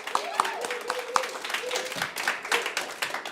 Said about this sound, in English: Let's give this segment another round of applause.